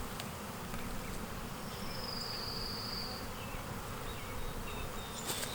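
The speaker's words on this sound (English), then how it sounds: "Another kind of small swarm. This one doesn't have a lot of bees in it." A small swarm of honeybees gives off a steady, dense buzz that holds evenly throughout, close and continuous, with a few brief higher whines from individual bees passing near and no talking.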